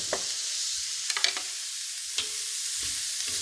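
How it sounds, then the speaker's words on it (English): Wild mushrooms seasoned with salt and pepper fry in a pan while being stirred, a constant close sizzle broken by several sharp scraping and clattering stirs, with no voices. "And you have to keep stirring them so that they don't catch."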